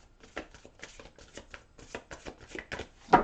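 Tarot cards being shuffled by hand, a run of quick papery riffles and flicks in an irregular rhythm, close and fairly quiet, ending in a louder slap as a card is drawn.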